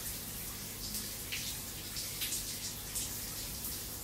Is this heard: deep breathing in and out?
no